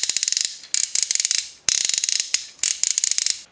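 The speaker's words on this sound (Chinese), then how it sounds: "这齿轮关节嘎嘣嘎嘣的，这才有劲儿了" Ratchet gear hip joint of a Transformers Bumblebee action figure being worked, loud close bursts of rapid plastic clicks in quick repeated runs, each burst a fast ratcheting chatter separated by brief pauses, with no voices.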